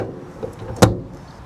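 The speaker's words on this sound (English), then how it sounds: "There's no warping or twisting when you do the door, it's nice and solid. Shuts nice and solid." A ute canopy door is shut, with a single solid thud after a faint earlier click, close by and brief against quiet background noise.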